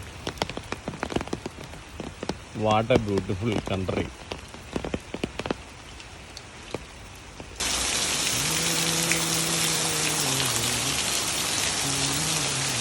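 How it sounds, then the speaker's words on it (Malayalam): Rain falls steadily on surfaces outdoors. A person speaks briefly amid scattered drops and clatter at first, then a loud, dense downpour takes over and continues to the end. "മഴ മഴ പെയ്യുന്നുണ്ട് കേട്ടോ"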